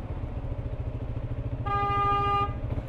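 A car horn blares in one sustained honk lasting under a second, over the steady rumble of a Yamaha MT-125 motorcycle engine and street noise.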